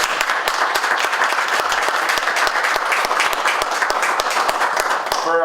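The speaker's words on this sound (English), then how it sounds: "So I'd like to ask folks here if we give a quick round of applause." A steady round of applause from an in-person audience at a candidate forum town hall, dense clapping that holds evenly throughout at close range.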